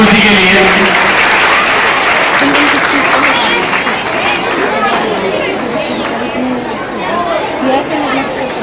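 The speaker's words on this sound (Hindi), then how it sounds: "जोरदार तालियां हमारे इस डांस प्रस्तुति के लिए" Applause and crowd chatter at a school Independence Day celebration after a students' dance performance, a sustained loud wash of clapping mixed with voices and babble that eases slightly toward the end.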